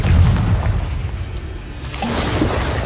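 A Confringo explosion spell cast in the Hogwarts Legacy video game booms with a loud, deep rumble that stays heavy for the whole stretch and flares up again near the end.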